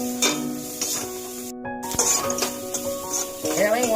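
Spice paste with turmeric and coriander powder being sautéed in a pan for a potato dum with green pea paste: light stirring scrapes and a soft sizzle, close by, over steady tonal background sound.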